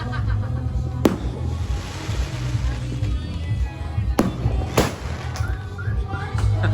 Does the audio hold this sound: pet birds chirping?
no